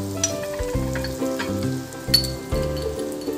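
Cumin seeds hit hot oil and sizzle and crackle up close in loud, continuous frying bursts, with a faint clink of a stirring utensil.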